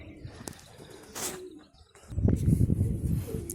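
Pigeons coo in low, throaty bursts close by, with a brief flutter early on and a denser run of cooing in the final second and a half.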